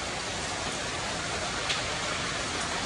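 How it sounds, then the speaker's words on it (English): Steady rain falling outdoors in a garden, a dense, even hiss of drops at constant loudness with no pauses and no talking. "So we're at a half inch rain now."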